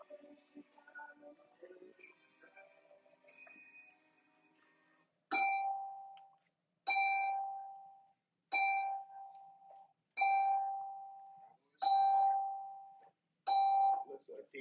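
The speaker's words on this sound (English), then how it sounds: "You'll hear the bells going off." School evacuation bells ringing in a classroom, six loud, evenly spaced chimes each decaying slowly, preceded by indistinct murmured talk and movement.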